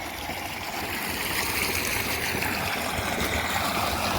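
Irrigation water pouring steadily into a maize field plot, a continuous broadband rushing and gurgling flow, close and unbroken.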